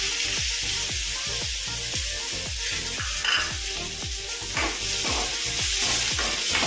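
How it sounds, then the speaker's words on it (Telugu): Chopped onions and green chillies frying in hot oil, a loud, close, steady sizzle with regular stirring strokes scraping the pan at a quick even pace, no voices. "నూనె కాగిందండి. ఇప్పుడు మనం ఉల్లిపాయలు, పచ్చిమిరపకాయ ముక్కలు వేసుకున్నాం."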